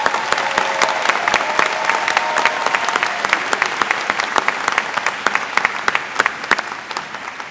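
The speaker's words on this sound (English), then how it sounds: "How about another round of applause for both outstanding students?" A commencement crowd applauds two outstanding student speakers, a dense, steady clapping with sharp individual claps standing out, holding loud throughout and thinning slightly near the end.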